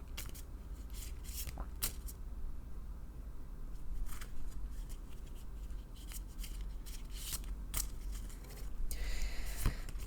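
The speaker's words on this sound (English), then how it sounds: "I shuffle until Spirit asks me to stop" Someone is shuffling a deck of Lenormand tarot cards by hand, giving soft, quiet papery riffles and rubbing with brief sharper snaps scattered over a low background hum, with no voices.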